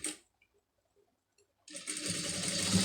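A sewing machine stitches along the neck of a round-neck blouse trimmed with saree border. A brief rattle and a few faint ticks come first, then a steady close-up whirring run of stitching.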